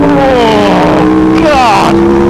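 An Aprilia RSV4 RF motorcycle accelerating hard in fifth gear, a loud close engine whine rising in pitch with a smooth continuous roar.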